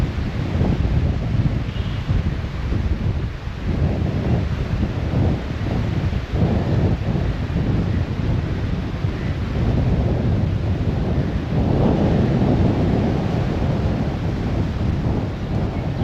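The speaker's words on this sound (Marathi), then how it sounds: "हवेचा प्रचंड जोर आहे मित्रांनो." Strong wind roars across Nandgaon Beach near Boisar, battering the microphone with a loud, continuous rumble and surf-like gusts for the whole stretch, with no voice heard.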